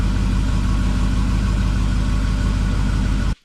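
A classic car engine runs loud and close during a brake test, a steady low rumbling idle that cuts off abruptly at the end.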